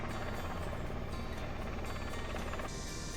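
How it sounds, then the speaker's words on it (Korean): Military helicopter flying over a valley trail near Cheonmun Falls on Suraksan in summer, a continuous loud rotor thrum and whine filling the clip, with no talking. "걷다 보면 종종 군용 헬기 소리가 들려오기도 해요."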